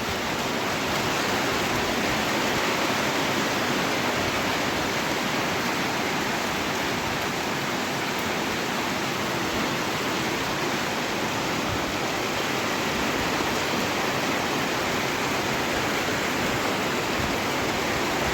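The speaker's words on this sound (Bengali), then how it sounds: "কি পরিমাণ বৃষ্টির বেগ আর বাতাসের বেগ।" Heavy rain driven by strong wind pours down outside a house with water entering through the veranda, a dense, loud, unbroken roar with no voices.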